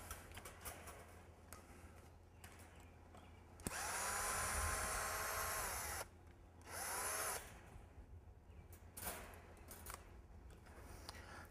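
A power drill loosens screws on the bottom panel of a welded-wire hoop pen, sounding as two close whirring bursts of a few seconds each, with quiet handling noise in between.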